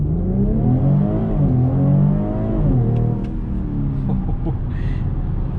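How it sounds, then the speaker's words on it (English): A 2021 BMW X3 M40 in sport mode with traction control off launches from a brake boost, its engine roaring loudly with rising pitch through the gears, heard from inside the cabin. "Alright, so we're gonna go ahead and brake boost this BMW X3 M40."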